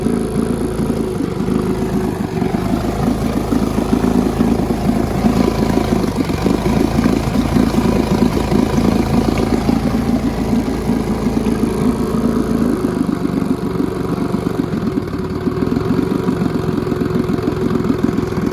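A used outboard boat motor keeps running at low throttle, a steady close mid-pitched engine drone with slight wavering in speed and no talk over it.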